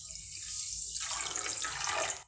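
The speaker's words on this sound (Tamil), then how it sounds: "இப்போது இது மூழ்கிற அளவுக்கு நம்ம தண்ணி ஊற்றிக்கலாம்." Water is poured into a pot of sugar to make syrup for mini badhusha sweets. After about a second of near quiet, a close, steady splashing gush continues for over a second before cutting off.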